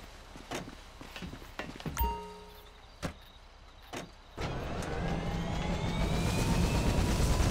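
A helicopter in Grand Theft Auto V, parked in a hangar, gives a few scattered clicks and thuds, then its engine spins up into a steady rising whine over a broad, building roar.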